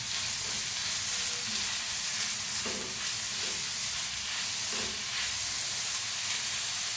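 Chopped onions sprinkled with salt fry in a pan, producing a constant, dense sizzling hiss with a few faint stirring knocks underneath, heard alone without speech.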